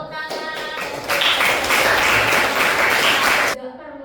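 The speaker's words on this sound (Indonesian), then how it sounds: "Oke, tepuk tangan." Classroom audience at an Indonesian teacher-training session claps, starting with a brief voice and scattered hand claps before swelling into full, loud applause that stops sharply, followed by a voice.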